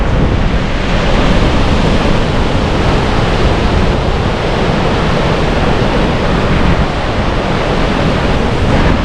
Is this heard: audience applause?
no